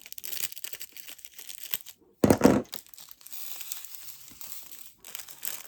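Small plastic bags of diamond painting drills crinkle and tear as they are cut all at once, a brief, close, loud burst rising out of quiet handling noises.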